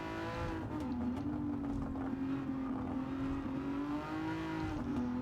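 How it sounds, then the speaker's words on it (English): An Aston Martin DB11 engine with anti-lag in Gran Turismo 7 drones steadily at high revs, a loud continuous racing tone with slight pitch dips and crackling burbles, with no talk. "Just putting that anti-lag on gives you those burbles as you lift off the gas."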